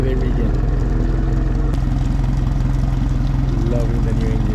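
A new boat engine runs at a steady, loud idle with an even low throbbing pulse throughout, a constant mechanical drone with no pauses.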